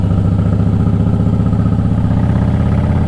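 Harley-Davidson motorcycle with a 103 motor and stock pipes with the baffles removed, idling with a loud, steady, deep loping rumble close by and no one talking.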